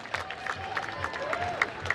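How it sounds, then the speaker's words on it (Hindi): An audience claps and cheers to welcome a dance finalist, a dense steady wash of applause with scattered sharper claps and crowd noise throughout. "तो जोरदार ताली से स्वागत कीजिए"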